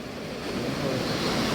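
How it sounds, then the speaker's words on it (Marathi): Ocean waves wash onto a Konkan beach, a steady broadband surf roar that swells slightly louder over the short stretch, with some wind and no talking. "या बघा लाटा, बघा लाटा."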